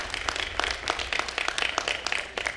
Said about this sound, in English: please give a another round of applause for the Hallelujah Chorus